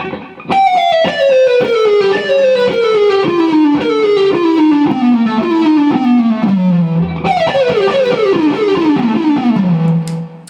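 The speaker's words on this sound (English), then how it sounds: "Let's try the descending version of this lick now." Distorted electric guitar plays a fast legato run stepping downward in a repeating cascade, loud and continuous, with no talking.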